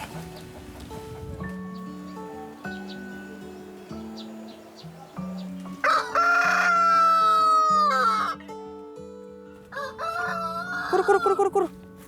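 Roosters crow loudly and repeatedly close by on a farm with an organic vegetable garden, long rising-falling calls over a background of other fowl, with a few soft tones underneath.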